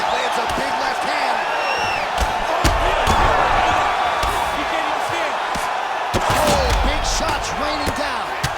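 Punches and strikes thud repeatedly in an EA Sports UFC 5 bout between Anderson Silva and Michael Bisping, sharp impacts landing over a constant arena crowd roar while a commentator talks.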